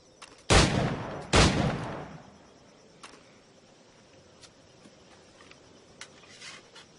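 Two sharp gunshots ring out in Assassin's Creed 4 Black Flag, each followed by a decaying boom, then softer scattered taps and clicks over a low ambient bed.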